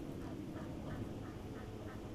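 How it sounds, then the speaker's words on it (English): Geese honk at night across the water by a fishing spot, a rhythmic run of about five faint, distant calls over a steady low background hum. "The geese are going crazy over there."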